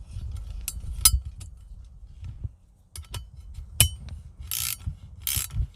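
A ratchet wrench tightening bolts on a Jeep Gladiator dead pedal during install, with bursts of quick clicking pawl ratchets separated by pauses, close up, plus a few metallic clinks, no talking.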